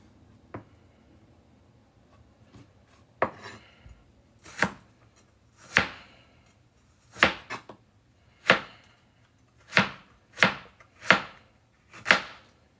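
Knife chopping through meat for a Russian stew, a dozen sharp separate cuts landing unevenly, a few sparse ones early and then a steadier run of strong, close strokes, with no talking.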